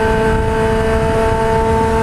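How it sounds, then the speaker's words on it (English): A car exhaust note drones loud and steady at close range, a smooth continuous engine tone with strong harmonic hum and no voices over it. "Hear that exhaust? It sounds real clean."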